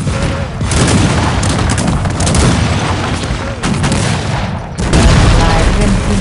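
Dense battle din from the video game Cossacks 3, with booming explosions and volleys of gunfire rolling almost continuously at close range, briefly dipping twice before surging loud again.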